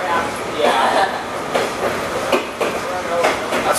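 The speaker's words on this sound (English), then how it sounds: "you gotta wait for the train" Railcars behind Union Pacific steam locomotive 844 roll past close by, with rhythmic clattering wheel beats over the rails and people talking in the background.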